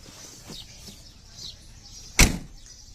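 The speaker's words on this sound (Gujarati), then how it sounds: "અને અહીંથી આ પ્રકારનો ખુલશે દરવાજો" The door of a 2013 Mahindra Bolero SLE is opened, giving a single sharp latch clack near the end against a quiet background, with no talking.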